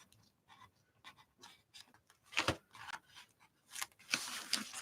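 Paper being trimmed with scissors up close, a series of irregular snips and rustles that grow louder toward the end, with no one talking.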